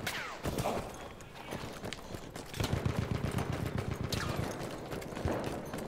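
Rapid bursts of rocket gun fire in Battlefield 1 mixed with other battlefield gunfire and clatter, loud and close with repeated sharp impacts across the stretch, no speech.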